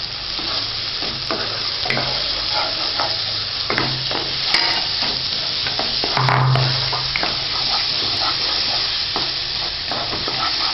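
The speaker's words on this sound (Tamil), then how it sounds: "இப்போ இந்த மாதிரி நல்லா கிண்டி விட்டுக்கோங்க" Egg kothu parotta, the Madurai street dish, sizzles loudly on a pan while being stirred, giving a continuous close hiss with repeated scraping and clanking strokes and no talk.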